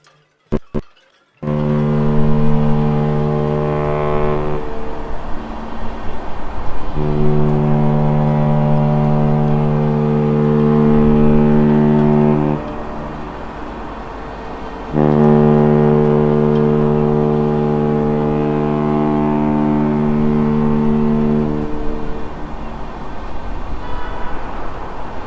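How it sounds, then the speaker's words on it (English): The cruise ship Independence of the Seas sounds its deep horn while departing Southampton, three long loud blasts with brief gaps between them, booming across open water. "Jolly decent hornage there from Independence Seas."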